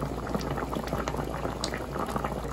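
Fish curry made with lake whitefish bubbles in a covered pot, a dense, continuous simmering burble heard up close and steady from start to finish, with no voices.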